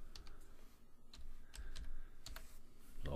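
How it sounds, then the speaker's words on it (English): Someone types on a computer keyboard, producing quiet, irregular key clicks close by in a hushed room. No voice is heard over the typing. "so I type out my text."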